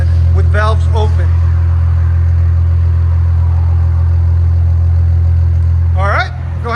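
A 2017 Infiniti Q60 Red Sport 3.0L twin-turbo V6 with no cats idles with exhaust valves open, a loud, steady low rumble that holds throughout, with voices briefly talking over it near the start and end.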